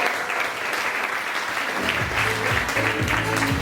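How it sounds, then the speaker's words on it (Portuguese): Audience applause at a church carnival night show event, a broad steady clapping that swells after the first couple of seconds with music and a crowd murmur underneath. "Uma salva de palmas para o Davi Simonetti."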